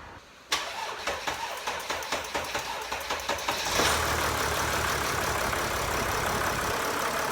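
A Mercedes-Benz OM642 V6 diesel with a freshly replaced exhaust manifold cranks through a dozen rhythmic starter pulses on a low battery, then catches and settles into a loud, steady, close idle.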